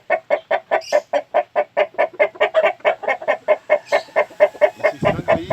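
A purple rooster clucks steadily in a farmyard flock, a rapid, evenly spaced run of loud, close clucks lasting several seconds, with a brief rustle near the end.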